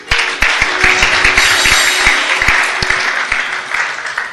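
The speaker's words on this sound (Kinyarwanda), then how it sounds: "Mureke tumuha amashyi." A church congregation breaks into loud, sustained applause, dense clapping with sharp individual claps standing out, continuing steadily for several seconds with little talk.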